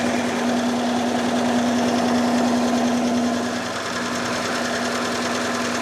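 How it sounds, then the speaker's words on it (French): A saw runs steadily with a constant motor drone and a strong steady hum, loud and unbroken, easing slightly in level near the end, with no talk over it. "Ah, il y a une scie."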